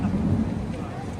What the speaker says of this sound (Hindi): बारिश बहुत तेज़ शुरू हो गई है